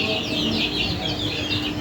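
Desi chicks cluck and chirp softly in a short, busy stretch, several birds close by with a low background hum.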